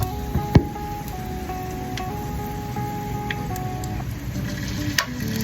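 Okoy, a shrimp and vegetable fritter, frying in a pan with a steady, even sizzle, with a faint sustained tone above it and a couple of sharp clicks.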